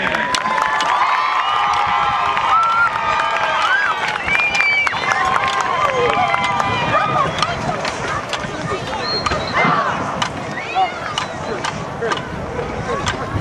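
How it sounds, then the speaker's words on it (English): A football stadium crowd at a high school area championship game applauds and cheers for the Mighty Mustang Band of Hughes Springs, a broad roar of clapping and voices with scattered shouts, sustained and loud throughout. "How about another round of applause for the Mighty Mustang Band?"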